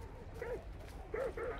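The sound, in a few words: dogs barking in the video game Hunt: Showdown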